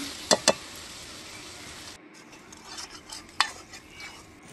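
Small baim fish curry is stirred in a pan over the stove after torn lemon leaves go in: soft scraping with a low simmering hiss, punctuated by two quick utensil clinks early on and another later.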